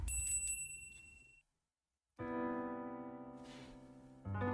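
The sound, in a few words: bell ringing as a bar door opens, from a video game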